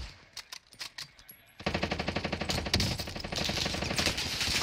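Rapid automatic gunfire in the shooter game Warzone, a few scattered shots followed by sustained bursts of loud, close, fast-rhythm fire.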